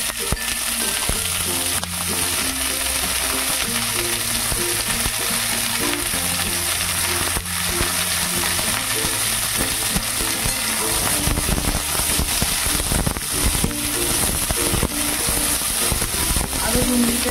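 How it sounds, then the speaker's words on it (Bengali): Carrots and beans fry in a pan with a constant hiss and occasional stirring, while a tuneful background sound plays loudly over the sizzle throughout. "আরো 2 মিনিটের মতন একটু নাড়াচাড়া করব"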